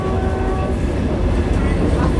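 An air-conditioned passenger train in Cambodia runs along with a loud, continuous rumble and rattle, heard from inside a carriage, with a voice talking over it.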